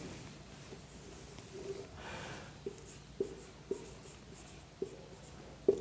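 Chalk or marker strokes on a board during a maths lesson, a handful of short sharp taps and scrapes spaced a second or so apart over a quiet room background, with no talking.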